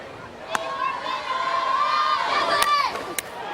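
A partisan crowd cheers and shouts at a Women's College World Series softball game, Oklahoma against Texas, a steady roar with piercing whistles and voices rising over it and sharp bursts near the end.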